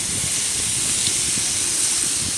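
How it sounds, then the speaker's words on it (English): Food sears hard in a very hot pan aboard a sailing boat, giving a loud, dense, continuous sizzling hiss heard up close with no pauses. "We're searing it real hard right now."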